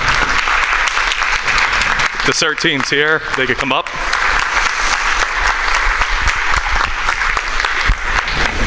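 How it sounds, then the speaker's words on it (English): Town meeting audience applauds the CERT team, loud sustained clapping from a crowd that continues throughout while someone talks over it for a moment. "So if we could give them a round of applause."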